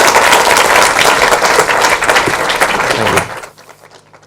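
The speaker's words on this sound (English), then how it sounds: "can everyone please give Rowan a round of applause?" A conference audience claps loudly and steadily for a presenter on stage, a dense burst that holds for about three seconds and then tapers off into scattered claps.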